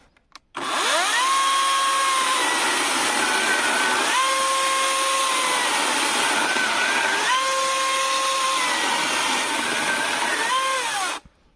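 A Vitals Professional AKZ cordless battery chainsaw cuts through wood in three consecutive passes. Each cut is a loud, close, steady motor whine that sags in pitch under load and recovers between cuts, with no talking.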